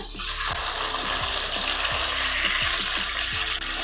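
Dense, constant crackling sizzle of pomfret fish frying in oil, loud and near, with a soft repeated low thump underneath.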